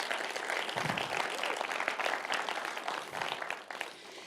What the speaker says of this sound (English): Can we please give a round of applause for all of our sponsors?